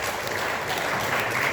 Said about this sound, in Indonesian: Tepuk tangan untuk keceriaan beliau.